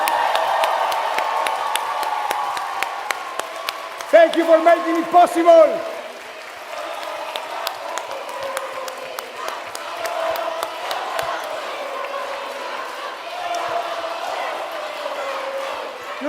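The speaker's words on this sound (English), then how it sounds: "Huge round of applause to our finalists" An audience at a large youth-network plenary meeting applauds and cheers for finalists, crowd noise and scattered clapping running beneath amplified speech, with a brief swell of cheering midway.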